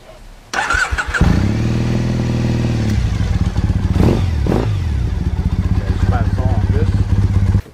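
A Triumph Bonneville Custom motorcycle engine fires up after a brief crank, then settles into a loud, close, steady idle with a throaty, pulsing rumble and a few small throttle blips.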